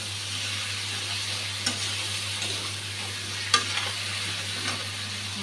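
Potatoes added to hot oil and spice paste, frying with a low, steady sizzle, a faint background hum and a few sharp stirring clinks.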